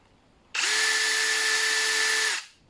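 A PRO STORMER 20V brushless hammer drill rated 45 Nm spins up abruptly and runs at a steady high-pitched whine for nearly two seconds before winding down, loud and close.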